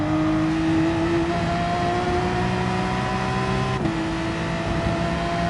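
A race car laps the Red Bull Ring in Gran Turismo Sport, its steady, whining engine note climbing through the gears with a sharp shift partway through, continuous and close without talk.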